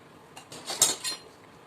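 A small toy kitchen tawa pan clinks lightly against other pieces of a children's play cookware set. A few quiet metallic taps cluster in the middle of an otherwise hushed moment.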